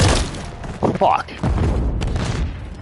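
A grenade explodes in the video game Modern Warfare 3, a heavy boom amid gunfire and game effects. A voice talks over the action.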